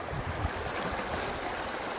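Steady broadband rush of a creek flowing beside a campground pull-out at 6,700 feet in the Teton Wilderness, Bridger-Teton National Forest, continuous and fairly close, with no voices.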